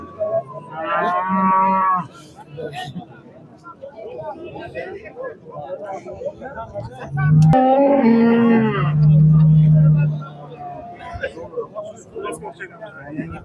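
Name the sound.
cows mooing at a livestock market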